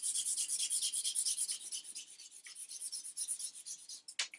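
Sandpaper rubs back and forth over a wooden gun stock being refinished, a close, steady rasping in quick regular strokes that ease slightly toward the end.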